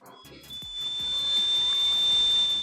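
A small buzzer in a school potato conductivity tester circuit sounds a thin, steady high-pitched whine that starts after a brief click and holds continuously at moderate loudness.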